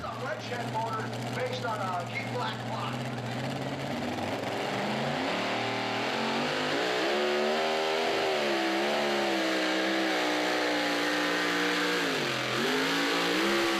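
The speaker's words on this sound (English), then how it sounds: "here comes another gorgeous-looking mini rod, this one driven by Jules Riker. It's called Joker's Wild" A mini rod pulling tractor named Joker's Wild revs hard during a tractor pull at a Hillsboro, Wisconsin charity event, its loud engine whine rising and wavering steadily throughout while an announcer talks over it.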